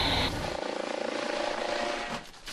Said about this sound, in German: Der Hubschrauber fliegt zurück ans Ufer.